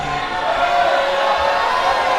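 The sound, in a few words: wrestling event crowd cheering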